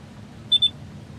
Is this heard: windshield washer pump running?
no